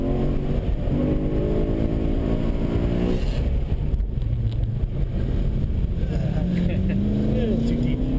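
A BMW M3 on a driving-school track accelerates out of a turn, engine note rising steadily under heavy wind buffeting, with people talking over it.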